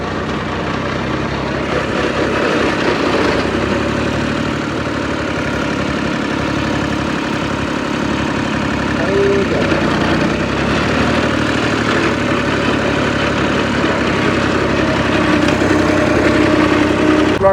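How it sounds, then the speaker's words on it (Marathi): Tractor engine running at a guava plot, a loud, steady drone that continues without a break. "या ट्रॅक्टरला आवाज जास्त आहे"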